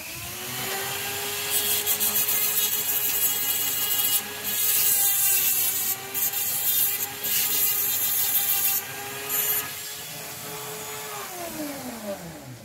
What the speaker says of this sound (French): Vous pouvez venir un petit peu poncer la partie.